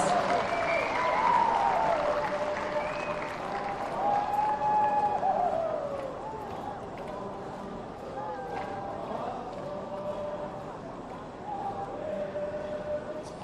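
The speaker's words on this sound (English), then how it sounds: "let's give the Khiamniungan cultural troupe a big round of applause for their wonderful performance" An outdoor festival audience applauds a cultural troupe at the Hornbill Festival, a broad, fairly distant patter of clapping that lasts throughout and fades somewhat midway, with voices and vocal sounds over it.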